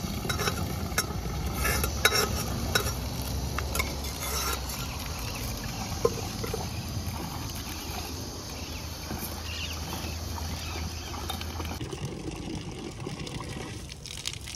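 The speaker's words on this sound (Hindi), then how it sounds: "अब जो है ना राजमा में तड़का मार देंगे।" A tadka for rajma sizzles softly while being stirred, giving a continuous close hiss with faint scraping; the background changes near the end.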